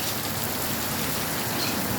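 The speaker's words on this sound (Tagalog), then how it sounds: "Ang lakas ng ulan." Heavy rain pours steadily outside a house, a dense, even hiss of drops on surfaces without breaks or voices.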